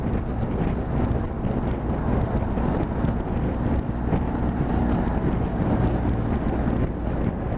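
Strong, fierce wind buffets a rider on an open road aboard a motorbike, a loud, continuous roaring rush with no talking.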